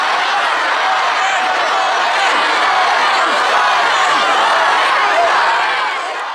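A school crowd at a gunge-a-teacher event shouts and cheers over which teacher to save from a custard gunging, a dense, loud, continuous roar of many voices that eases slightly at the end.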